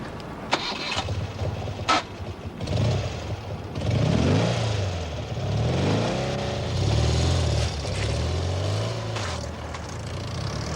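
A scooter engine starts and revs nearby in a 1979 British setting, its pitch rising and falling through several throttle swells, with no speech.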